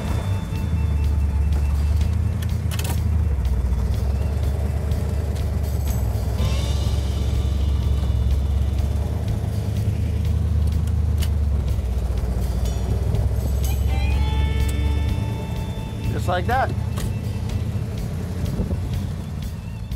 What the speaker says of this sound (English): Now we're gonna go ahead and get the car running and put it in gear